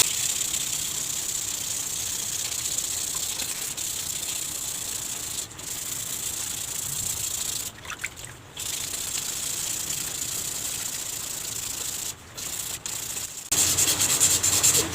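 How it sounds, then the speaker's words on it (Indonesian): Steady abrasive rubbing of wet sandpaper against a spinning fishing rod during finishing, a continuous scratchy hiss with a few brief pauses, close to the microphone. "Jadi di amplas sambil diputar"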